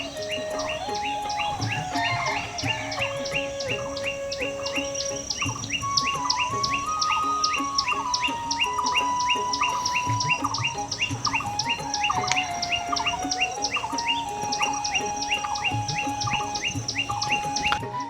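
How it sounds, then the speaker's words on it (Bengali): Morning birdsong in a village in Charadi Union, Bakerganj, Barisal: several birds chirp and whistle continuously, with repeated bright trills and tonal phrases overlapping over a faint insect drone, steady and moderately close, with no voices. "এই পাখির চিকিরমিকির শব্দগুলো মানে সকালবেলা উঠলে একটু কষ্ট করতে হবে।"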